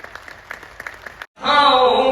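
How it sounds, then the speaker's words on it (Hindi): Audience applause at a large poetry gathering at the Dadri fair, a voice speaking over a crowd first, then after a brief pause a dense, loud burst of clapping that fills the end. "यकीन मानो तुम्हारी तालियां हिम्मत बढ़ाती है"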